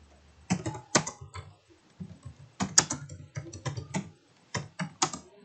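Typing on a computer keyboard while entering JavaScript code, irregular clusters of crisp close keystrokes with short pauses between bursts, fairly clear and without speech.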